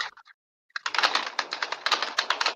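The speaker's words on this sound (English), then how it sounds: "My bad, that's me typing." Keyboard typing while taking notes: a couple of quick keystroke bursts, a short pause, then a sustained, close, rapid clatter of clicking keys.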